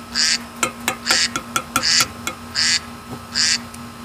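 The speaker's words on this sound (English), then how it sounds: "there's another set of ducks right now" Several loud duck quacks come in separate bursts, with short sharp knocks between them over a steady low hum.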